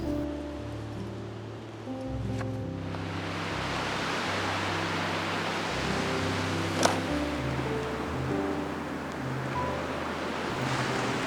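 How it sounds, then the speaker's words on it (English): Ocean surf rolls steadily onto a wild Pacific beach, a broad continuous wash of breaking waves with soft wind, heard alone and moderately loud without any talk. "I internalize the movement of the waves where they almost synchronize with my heartbeats."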